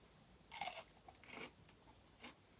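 Crisp crunching bites while eating a seafood boil with shrimp and cucumbers, three short close bursts with quiet pauses between, no talking.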